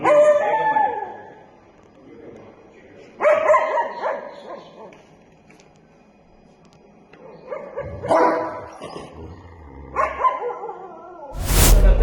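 A dog at a breeder's gives several loud, drawn-out barks and howl-like yelps in separate bursts, with quiet gaps between and a sharp noise at the end.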